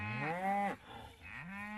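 Cattle on a Missouri livestock farm moo loudly and close by: one long, drawn-out low moo, then a short pause before a second moo begins.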